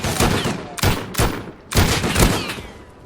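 Several close, loud gunshots in the survival game Rust, fired at a bot in short separate bursts with brief pauses between them.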